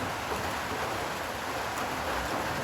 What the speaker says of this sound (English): It is raining, and the rain is getting heavier and heavier. You can hear it on our tin roof.